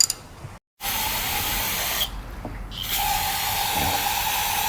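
Water sprayed to rinse out a Jeep Wrangler filter, a steady close hiss that briefly cuts out, thins, then returns stronger, with no talk.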